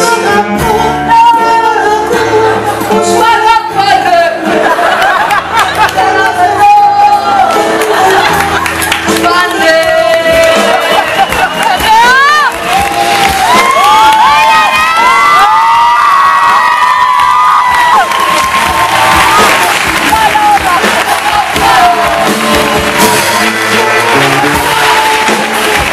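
A concert audience section sings along loudly, off-key and off the beat, a dense continuous wall of massed voices with cheering, filling the space throughout at close, high level.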